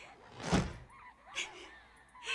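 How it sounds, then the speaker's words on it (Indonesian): Door closing in the horror video game Dreadout, a single muffled thunk near the start followed by faint ambient game sounds, with no talk. "Tutup kah pintunya? Tutup."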